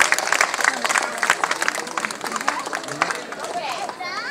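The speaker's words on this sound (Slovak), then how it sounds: "by ste im mohli dať jeden veľký potlesk" Audience applause for contestants at a plum-dumpling eating championship during the Michalský fair in Myjava, a dense, sustained patter of many hands clapping throughout with crowd voices mixed in.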